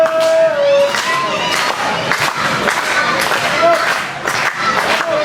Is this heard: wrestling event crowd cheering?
yes